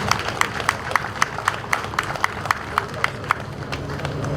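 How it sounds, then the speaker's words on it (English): A crowd at a Nigerian Navy ship reception ceremony for NNS Kada applauds, with a broad hum of clapping punctuated by sharp, regularly spaced loud claps roughly every quarter second, close and prominent throughout. "resounding round of applause"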